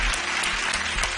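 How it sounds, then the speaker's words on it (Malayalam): An audience claps for Sanjuktha, a young singer on the Star Singer Season 8 stage. Brief, dense applause rings out loud and close with no talking. "അപ്പൊ നല്ലൊരു കൈയടി സഞ്ജുക്തയ്ക്ക് വേണ്ടി"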